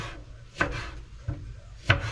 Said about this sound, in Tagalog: Slice ako ng kamatis.